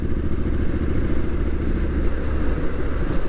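A Triumph Street Scrambler 900 motorcycle engine drones steadily while being ridden, a loud, close, continuous rumble with rough low-end texture and no talking.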